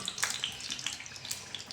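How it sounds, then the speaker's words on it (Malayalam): Fish frying in hot oil with a little water left in the pan, crackling and spitting in quick irregular bursts of sharp pops over a soft hiss, close and fairly quiet. "ചെറിയ വെള്ളത്തിൻ്റെ ഒരംശം ഉണ്ടായതുകൊണ്ടാണ് ഇങ്ങനെ പൊട്ടിത്തെറിക്കുന്നത് കേട്ടോ"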